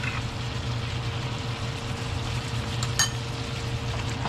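Goat kalderetang kambing with liver spread being stirred in a pan, a continuous soft sizzle and bubbling under a low hum, with one brief scrape of the spoon partway through.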